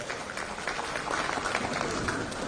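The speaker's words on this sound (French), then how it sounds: "on peut les applaudir" Brief, fairly soft applause from an audience thanking a panel at a govtech conference on public administration modernisation, a short burst of clapping.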